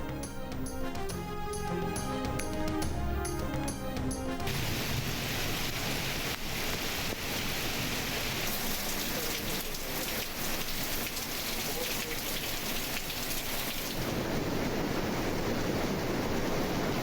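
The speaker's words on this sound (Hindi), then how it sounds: "लाहौर और गिरदोनवाह में रात मूसलाधार बारिश।" Heavy overnight downpour in Lahore: dense, steady hiss of rain pouring onto surfaces, loud and continuous throughout, with a brief musical jingle at the start and no talk.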